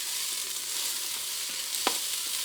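A bay leaf toasts in hot oil with rice and lentils, giving a continuous dry, crackly sizzle with small pops, close and steady, with no talk.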